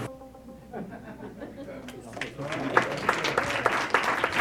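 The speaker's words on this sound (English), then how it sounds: "Let's give it a round of applause." Audience applause at a public hearing rises out of murmuring and light chuckles, building into scattered, then fuller clapping from a moderate-sized crowd in a hall.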